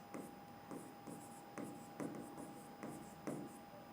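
Chalk or marker writes on a classroom board in short scratchy strokes, about eight quick bursts in an irregular rhythm, quiet and close over a steady faint electrical hum with no talking.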